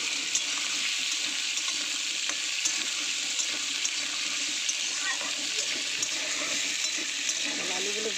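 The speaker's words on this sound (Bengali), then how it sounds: "আলুগুলো ওই ফোড়নে দিয়ে ভেজে নেব।" Small diced potatoes frying in oil tempered with dried red chillies and cumin seeds, a steady close hiss of frying with faint stirring and watery bubbling throughout, no talk.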